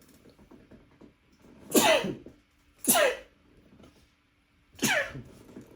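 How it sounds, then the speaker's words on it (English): Three sharp sneezes in a row, each a sudden loud burst, spaced about a second apart, with quiet breathing between them. "I'd edit those sneezes out"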